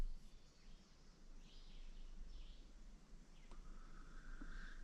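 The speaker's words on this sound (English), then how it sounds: "Listen to the birds." Faint, scattered bird calls and chirps in a quiet forest clearing at Tionesta Scenic Area, with a brief rising whistle-like call near the end over low outdoor background hum.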